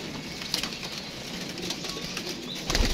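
A pigeon lands amid outdoor ambience, with brief wing flaps and a heavier flutter near the end, fairly close and set against a steady background hiss.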